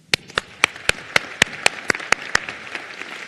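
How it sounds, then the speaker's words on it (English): Audience applause at a college graduation ceremony, honoring the college staff: a steady patter of many hands with sharp, evenly spaced louder claps standing out, moderately close and without voices. "Please share with me in applauding them"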